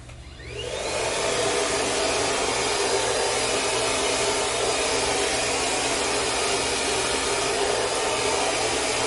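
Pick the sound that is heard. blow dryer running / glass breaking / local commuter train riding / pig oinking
blow dryer running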